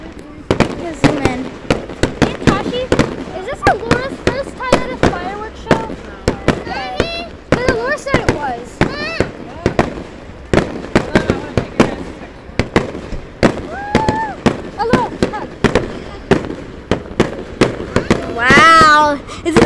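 Outdoor fireworks show with rapid, repeated bangs and crackling bursts going off in close succession for the whole stretch, loud and punchy, while people cheer and talk excitedly underneath.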